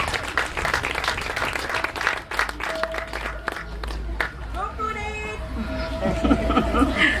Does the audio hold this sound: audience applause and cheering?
yes